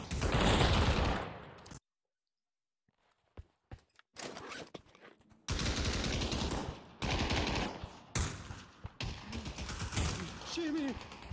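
Gunfire in the WW2 VR shooter Pavlov VR, with bursts of rapid automatic shots broken by a brief silence, then more volleys, clicks and footsteps, and voices talking over parts of it.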